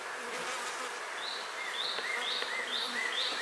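Honeybees buzz around an open hive frame of eggs, larvae and sealed brood in a steady, close drone with a few brief higher whines as individual bees pass by. No voices.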